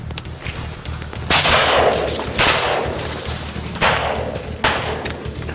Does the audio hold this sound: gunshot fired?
yes